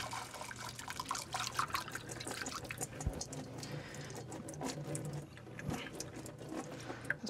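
Cooked edamame soybeans are drained from boiling water, a quiet run of pouring, trickling and dripping with small splashes and a few knocks against the pot or strainer.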